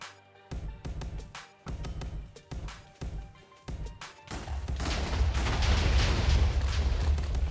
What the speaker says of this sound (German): Ich bin auch explodiert, das ist immer gut